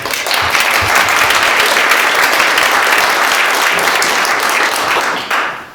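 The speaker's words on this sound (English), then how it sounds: "that's not really an applause line." A live audience at a talk at the Mariposa Museum breaks into loud, dense applause that fills the whole stretch, steady and close, easing off slightly at the very end.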